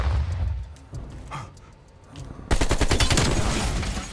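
Call of Duty gameplay with scattered distant shots and thumps at first, then a sustained, loud burst of rapid automatic AK-47 fire that rattles on without a break to the end.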